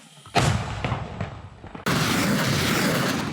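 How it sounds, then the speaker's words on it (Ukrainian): A heavy artillery-like blast booms out, followed by a sudden loud, sustained roar of rumbling noise that continues to the end. "Постріл!"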